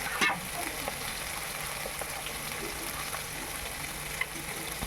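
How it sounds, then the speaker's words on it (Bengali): Cashew paste sizzles in a pan with mustard and chillies, a continuous soft frying hiss broken by occasional stirring scrapes, fairly quiet and steady throughout. "কাজু বাদামকে আমি নেড়ে চেড়ে নেব।"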